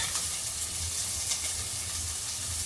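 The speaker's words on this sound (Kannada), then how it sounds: "ನೆಕ್ಸ್ಟ್ ಒಂದು ಚೆನ್ನಾಗಿ ಫ್ರೈ ಮಾಡೋಣ." Onions, then carrots, beans and potatoes frying in a pan, giving a steady, close sizzling hiss with faint stirring throughout.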